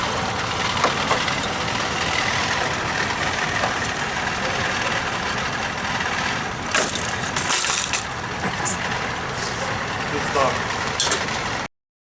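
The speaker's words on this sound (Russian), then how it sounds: "Моторчик працює, паливо з бензобаку поступає" A small engine of a ZAZ 1103 Slavuta car runs steadily after a fuel line replacement, with a rough, rattling drone, joined by a few sharp knocks and clatters partway through.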